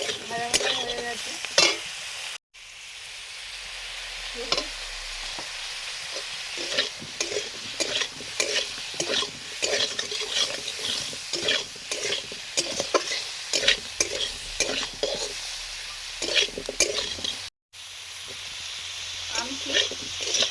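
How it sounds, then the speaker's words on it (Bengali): Flat beans are stir-fried in a pan with mustard oil, black cumin and salt, making a steady sizzle broken by repeated scraping and stirring strokes in an irregular rhythm, close and moderately loud. "এগুলো মোটামুটি হালকা ভাজা ভাজা হয়ে গেছে।"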